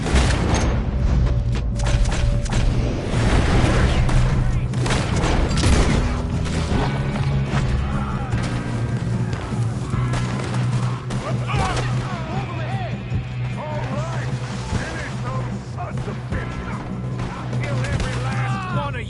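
Rapid gunfire from the Western video game Red Dead Redemption 2, dense booming shots and impacts layered over a steady music score and game ambience, loud and continuous throughout.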